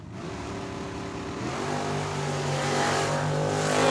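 Drag racing car launching at Tucson Dragway, heard as a mid-pitched engine roar that revs up and steadily builds in loudness as it accelerates away.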